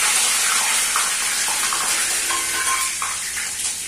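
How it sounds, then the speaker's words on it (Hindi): Curry leaves fry in hot oil for Bikaner-style namkeen with dry fruits, a dense, loud crackling sizzle that holds steady throughout, close up, with no talking. "अब हम इसमें लास्ट चीज फ्राई करेंगे जो है करी पत्ता"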